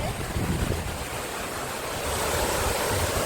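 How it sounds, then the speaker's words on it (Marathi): The large Siddheshwar waterfall plunges down a cliff, heard from the top as a broad, continuous rushing roar mixed with wind buffeting the microphone. "आता मी तिकडे आहे जिथून सिद्धेश्वरचा मोठा धबधबा खाली पडतो"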